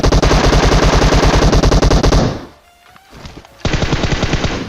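Loud rapid automatic gunfire in the mobile battle-royale game PUBG Mobile, a dense rattling burst that stops for about a second and a half of quieter game sounds, then resumes firing.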